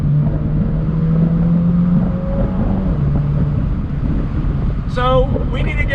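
A 2020 Mini JCW convertible engine drones steadily under throttle while driving, a sustained rising tone over heavy wind rush, with a brief burst of higher-pitched sound near the end.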